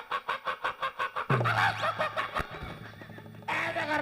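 A human voice imitates a hen clucking, giving a quick run of rhythmic clucks followed by a longer squawking cackle, close and fairly loud.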